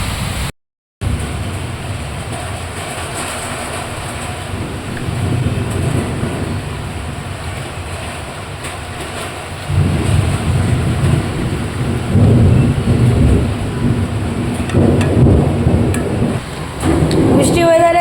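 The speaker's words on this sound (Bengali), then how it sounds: "বোলপুরে বৃষ্টি দেখো, বৃষ্টি দারুণ বৃষ্টি পড়ছে, চারিদিকে অন্ধকার, একদম ঝমঝমিয়ে বৃষ্টি" Heavy rain pours steadily in Bolpur under dark skies, with deep rolling thunder rumbling through and building louder midway; a brief dropout occurs near the start, and no clear talk is heard.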